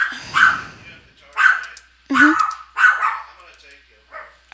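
Minecraft game dogs bark and whimper in several separate loud bursts, close up, with short gaps between each yelp.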